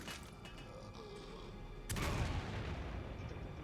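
Grenade blast in Resident Evil 6, a single sudden boom about halfway through, followed by a rumbling low tail, sitting within quiet game ambience.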